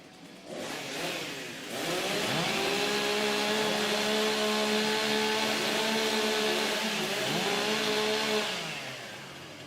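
Several STIHL chainsaws rev up together for warm-up at a British pro timbersports championship, a loud sustained snarling drone with rising and falling pitch that swells after a brief start and holds steady before easing off.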